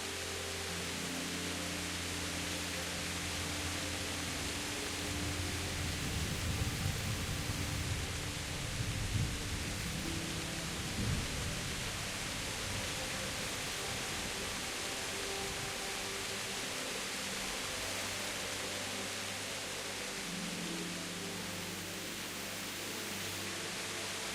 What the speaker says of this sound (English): The storm is a sign from God.